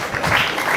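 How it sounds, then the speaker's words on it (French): Audience applause at a ceremony honoring a laureate, a steady wash of many hands clapping that stays even and fairly loud for under a second. "Applaudissons pour lui."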